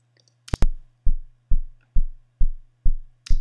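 A solo kick drum thumps seven times in a steady, even rhythm. Each hit is deep and punchy with a short decay, with a faint low hum between hits.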